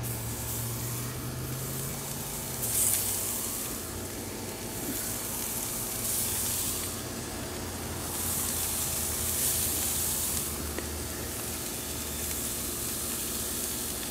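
Beef shish kebabs with vegetables sizzle steadily on a grill, a continuous close hissing sizzle with faint surges and no talking.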